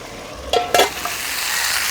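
Chicken is stirred in a hot pan, with a low, constant sizzle broken by a couple of brief, louder scraping rustles as it is turned over, close and without talk.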